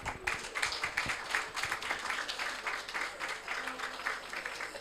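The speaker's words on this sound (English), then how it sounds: "I guess if you would like to join me in a round of applause to our panelists." An audience at a development-banking conference panel applauds its panelists with dense, steady clapping that fills the room for several seconds at a moderate level.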